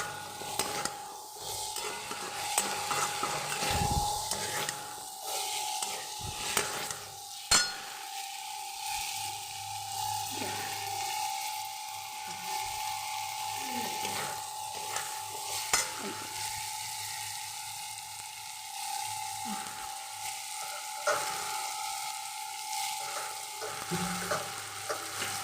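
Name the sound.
sautéing cut potatoes with spices in a pan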